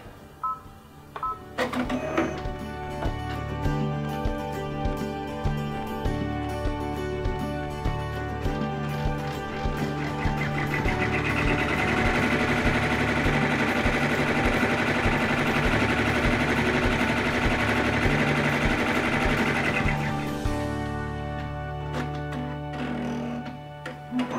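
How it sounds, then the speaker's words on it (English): A home embroidery machine stitches a placement line on fabric for quilted applique letters, a steady rapid mechanical whirring and tapping that runs near and loud for about twenty seconds before stopping. "Okay, it has stitched the area, the placement line for the next fabric."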